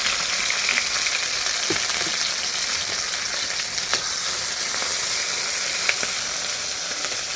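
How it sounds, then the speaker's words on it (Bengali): Chopped onion and green chilli fry with cumin seeds in a pan, giving a loud, continuous hissing sizzle with a few faint clicks of stirring and no talking. "সবজিগুলো একটু ভেজে নেব।"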